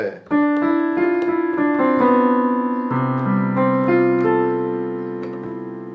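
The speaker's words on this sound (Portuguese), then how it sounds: "Isso aqui é um som de piano" Piano notes played alone, a few struck chords and single tones ringing out and sustaining, fairly loud and close.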